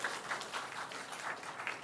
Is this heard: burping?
no